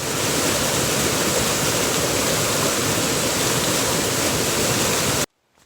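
River water rushes steadily in a loud, broadband flow close by, unbroken for about five seconds before stopping abruptly into near silence.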